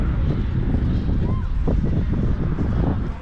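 Steady wind gusting across an open walkway on a long ocean bridge on a breezy day, a continuous low roar buffeting the microphone with no pauses, close and fairly loud throughout.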